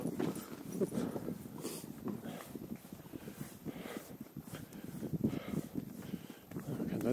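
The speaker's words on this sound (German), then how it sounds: "Guck mal, kommt das erste Pferdchen." Horse hooves clip-clop faintly in the distance on an outdoor walking tour near a castle, a steady, soft rhythm mixed with background ambience and some murmured voices.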